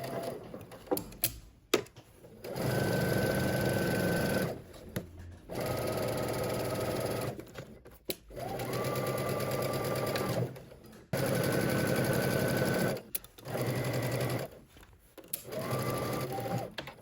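A sewing machine stitches pocket seams with a quarter-inch allowance in repeated bursts of several seconds each, a close steady whir broken by short pauses and handling clicks.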